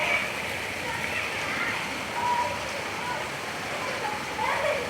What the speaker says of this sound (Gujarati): 2 દિવસથી વરસાદ ચાલુ છે,